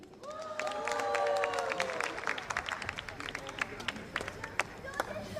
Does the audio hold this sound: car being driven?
no